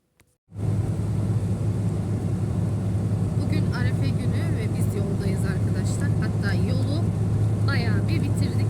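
Car interior on a rainy road in heavy traffic, a steady loud low engine and tyre rumble filling the cabin, with a person speaking over it.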